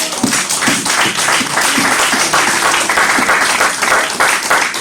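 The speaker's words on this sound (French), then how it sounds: "acclamez la parole de Dieu." A church congregation at a French-language sermon bursts into loud, sustained applause and clapping, dense and steady throughout with a few voices faintly mixed in.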